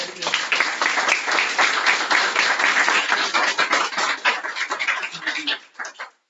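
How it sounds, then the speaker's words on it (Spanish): Dense applause from a seminar audience, continuous clapping that holds steady for several seconds before thinning out and stopping. "entonces agradecemos a Lorenzo, damos otro fuerte aplauso."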